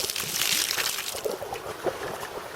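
Tap water empties from a water bottle outdoors near a stream: a steady, close rush and gurgling splash that flows continuously for a couple of seconds.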